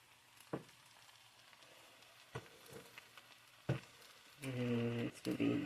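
Potatoes, kielbasa and mushrooms frying in a pan get stirred: a faint sizzle underlies scattered scraping clacks of a utensil against the pan, then a short burst of close, louder noise near the end, fairly quiet overall.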